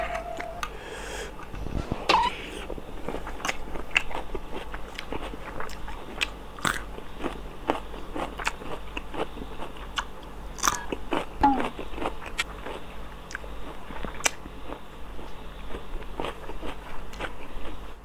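Corn salad with salted egg and shrimp being bitten and chewed close up, with repeated crisp crunching bites scattered through a steady quiet background and no talking.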